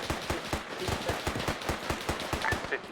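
Maxim machine gun turrets firing in a video game, a fast, evenly spaced stream of heavy shots, about a dozen sharp bursts in under three seconds, loud and close with no talk.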